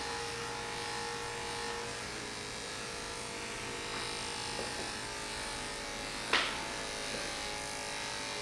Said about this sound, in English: I'm not taking the clipper and going flat or straight at it. I'm just grazing the hair.